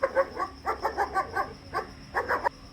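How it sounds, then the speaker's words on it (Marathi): A dog barks in the rain, giving a close, loud run of about ten short, sharp barks in quick uneven bursts over a steady wet background hiss. "तिथे जरा थांबला तर कुत्रं बघा कसं भुकते."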